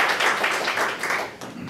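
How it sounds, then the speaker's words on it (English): An audience at a project pitch event claps for the judges, a dense, steady round of applause throughout with no talking. "Let's give them a round of applause."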